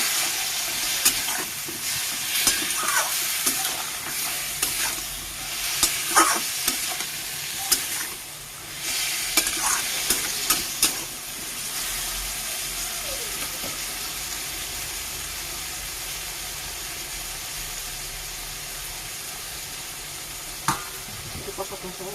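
Spices frying in a pan for a fish curry with beans and potatoes, a continuous bright sizzle broken by repeated scraping stirs and clatters in the first half, then a steadier hiss.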